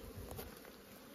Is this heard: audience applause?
no